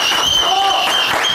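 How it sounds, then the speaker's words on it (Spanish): Audience applause at a puppet show, a steady wash of clapping lasting the whole short moment, with a voice speaking over it. "¡Fuerte de aplauso!"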